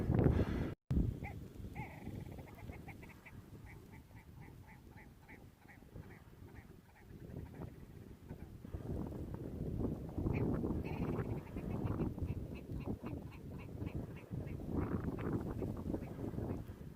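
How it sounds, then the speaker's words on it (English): Red grouse calling on a snowy winter moor: repeated rapid stuttering clucks and chattering calls in bursts, fairly close but soft against wind and rustling noise, with no talk. "They're the grouse that this area is so famous for."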